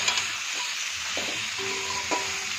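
Cumin powder and chili powder are sautéed in a pan with a steady, close, hissing sizzle, broken by a few light stirring scrapes and taps.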